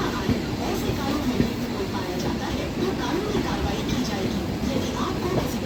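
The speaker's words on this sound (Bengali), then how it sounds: "শিয়ালদা বিকানির দুরন্ত এক্সপ্রেস ঢুকছে।" Sealdah-Bikaner Duronto Express arriving, a steady broadband rumble of rolling stock heard from aboard or beside the line in Kolkata, continuous and fairly loud with faint voices mixed into the background.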